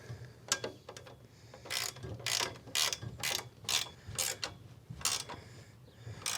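Nuts spun onto bolts by hand while assembling a paperpot transplanter, giving quiet, close metallic clicks and ratcheting scrapes in short irregular bursts with no talk.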